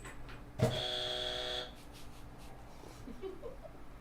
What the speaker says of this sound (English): Give me a little buzzer.